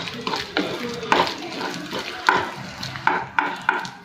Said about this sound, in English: So we need to mix it well. Thoroughly we need to mix it.